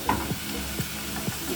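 Blended tomatoes go into a hot pan for a Kenyan-style egg stew, giving a steady close sizzle with a few soft scraping stirs at regular intervals.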